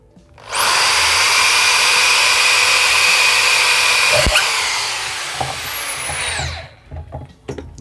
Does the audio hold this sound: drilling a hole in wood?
yes